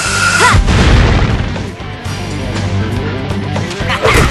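Fire Sling spell exploding in battle in the video game Arc the Lad: Twilight of the Spirits, a loud booming blast with a deep rumbling tail that keeps roaring for several seconds.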